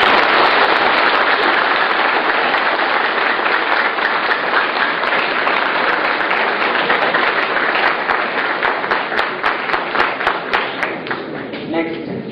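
An audience at a talk on mind, memory and health breaks into loud sustained applause, a dense roar of many hands that thins into separate claps toward the end, heard up close.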